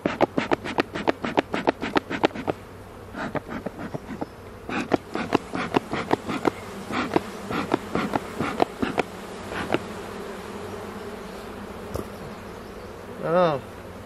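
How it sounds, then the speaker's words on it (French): Honeybees buzzing close by around hive frames in irregular bursts, individual insects droning past, with a soft background hum and a brief higher whine near the end. "je vais quand même venir me secouer un peu d'abeilles"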